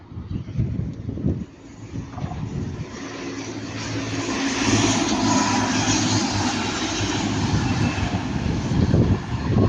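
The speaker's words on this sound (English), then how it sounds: "past about now, it's going to be a Transpennine Express class 185, going from Redcar Central to Manchester Airport" A Transpennine Express Class 185 diesel multiple unit, running from Redcar Central to Manchester Airport, passes at Ardwick with a steady rising engine roar and rumble that builds and holds loud, with wind buffeting the microphone.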